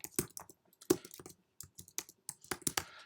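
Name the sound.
typing on a computer keyboard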